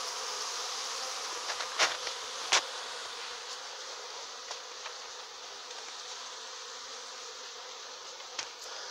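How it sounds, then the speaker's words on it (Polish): A steady, dense hum of many honeybees buzzing close by around a hive in October, continuous throughout with a few brief clicks. "Fajnie sobie latają dziewczyny."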